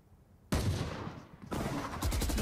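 Gunfire in the tactical shooter Valorant during a pro match on the map Haven, sudden loud bursts of rapid automatic shots, pausing briefly then resuming in a dense rattling stream.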